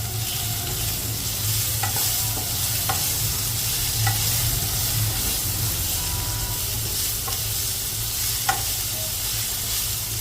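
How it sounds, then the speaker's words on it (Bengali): Amla (Indian gooseberry) chutney cooking and being stirred in a pan gives a steady, close sizzle and hiss, with occasional soft scrapes of the spoon against the pan throughout. "আমলকির চাটনি হচ্ছে।"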